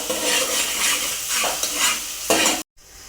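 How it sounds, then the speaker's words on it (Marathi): Masala paste sautéing in a pan for mutton curry, a dense, loud sizzle with a few scraping stirs, cutting out abruptly near the end before resuming briefly. "वाटण चांगलं दोन मिनिट परतून घ्यायचं"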